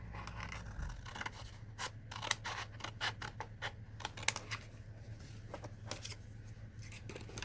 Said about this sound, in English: So then you take this other triangle and you cut that off too.